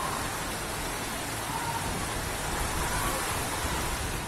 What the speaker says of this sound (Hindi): भारी बारिश ने हैदराबाद को पूरी तरह से डुबो दिया है।